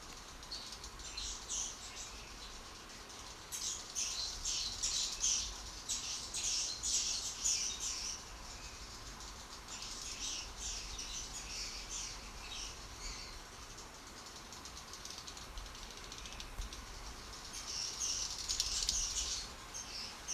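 Indian swiftlets call inside a dark cave colony, a continuous chatter of rapid high clicks and twittering, rising and falling in dense bursts over a faint hiss.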